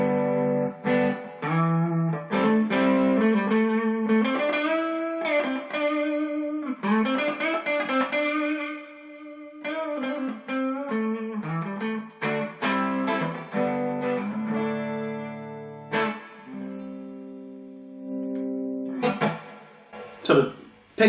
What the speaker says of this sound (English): With the higher output humbuckers, it's a bit more dirty. Let's roll back the volume a bit.